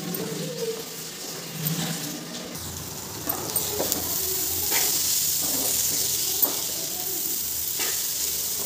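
Food fries in a pan in a home kitchen, a continuous hiss and sizzle that grows after a few seconds, with scattered clinks and stirring knocks, close by and without speech.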